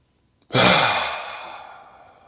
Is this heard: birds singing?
no